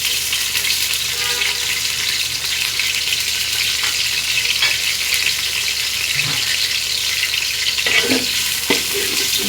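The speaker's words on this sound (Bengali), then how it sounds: "ভালো করে নেড়ে চেড়ে পেঁয়াজটা একটু ভেজে নেব।" Chopped onion with bay leaf and cinnamon sizzling in oil in a cooking pot, a steady close frying hiss with occasional scrape and clatter of stirring toward the end.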